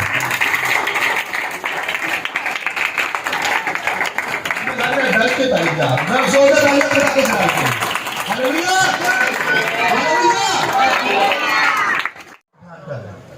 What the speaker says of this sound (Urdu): آئیے ہم روح القدس کو زوردار تالیوں کے ساتھ ویلکم کریں.